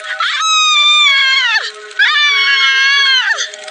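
A witch shrieks as she burns in a horror tale, letting out two long, shrill, wavering screams back to back, loud and close, each ending in a falling wail.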